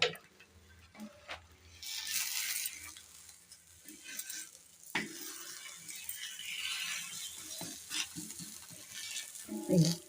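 Burelu, sweet filled dumplings of batter around a stuffing, frying in oil: a continuous bubbling sizzle with intermittent clicks and scrapes of a utensil, fairly close, without speech.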